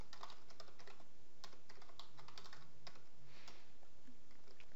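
Someone types an email address and password on a computer keyboard, giving a quick, continuous run of close key clicks with no talking.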